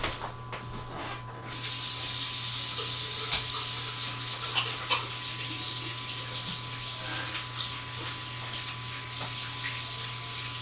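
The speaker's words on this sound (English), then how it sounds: "Let me wash my hands really quick." Steady hissing stream from a sink tap as hands are washed, starting abruptly after a quiet second and running on close and continuous for the rest.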